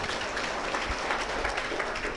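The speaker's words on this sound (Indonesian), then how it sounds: "kalau percaya kita tepuk tangan bareng-bareng" An audience at a university gathering claps together in a thick, steady wash of applause that holds at an even level throughout.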